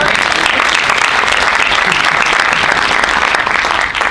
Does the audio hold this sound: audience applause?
yes